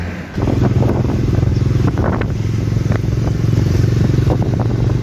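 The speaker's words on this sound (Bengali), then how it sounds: "এখন আমরা দুটো বাইক সার্ভিস করতে নিয়ে যাচ্ছি" Two motorcycles ridden on the road to a service shop in Ladakh, engine drone steady and loud throughout with wind buffeting the microphone and some rattling clatter.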